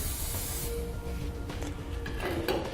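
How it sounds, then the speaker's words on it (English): A steady hiss of spray from an aerosol can, continuous and close, lasting a few seconds with small shifts in intensity. "I'm going to spray a little bit of spray lubricant on the hanger and on the rubber isolator"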